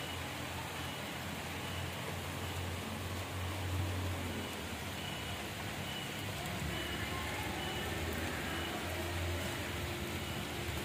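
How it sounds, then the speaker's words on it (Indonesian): Steady rain falls outdoors beside a fish pond, a continuous, even hiss of drops on surfaces that stays at a constant moderate level throughout, with no talk. "Aduh, lagi turun hujan"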